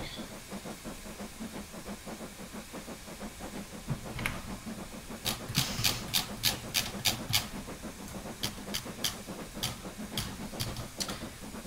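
Steam locomotive accelerating in a train simulation game, a faint hiss under soft rhythmic ticking chuffs that grow into sharp repeated bursts as it picks up speed, no talking.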